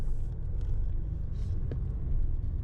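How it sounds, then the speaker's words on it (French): A manual car pulling away in first gear during a driving lesson, its engine giving a low, steady, close rumble that holds evenly throughout without speech. "Là, j'ai démarré, la voiture avance."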